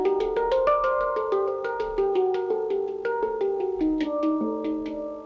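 A hang drum played by hand, a quick run of ringing, bell-like tuned notes that overlap and sustain, close and clear with no voices.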